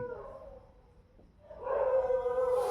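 Dogs barking and howling nearby, a harmonic howl-like cry that dips briefly then returns louder and sustained, with no talking over it.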